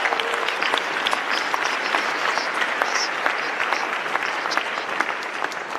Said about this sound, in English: can we give a round of applause to everybody who's diligent?